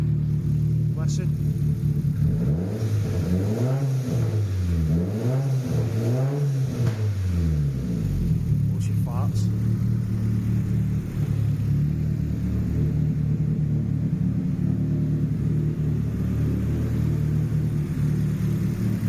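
A Nissan Pulsar GTiR engine running steadily after a rebuild, with a continuous low rumble and a few brief revs near the start, close to the microphone. Someone talks briefly over it.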